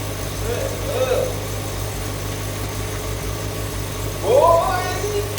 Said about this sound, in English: Hold on, the bike's on.